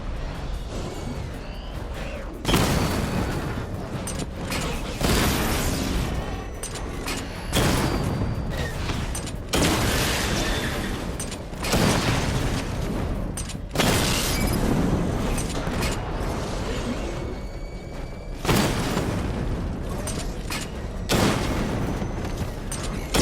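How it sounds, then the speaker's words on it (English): Missile barrage explosions from the Batmobile in Batman: Arkham Knight burst in a repeating series of loud, broad blasts roughly every two to three seconds, each followed by a rumbling tail, with mechanical clanks between impacts. "Charge up missile barrage to level 2 and destroy 4 active targets to complete diagnostic test"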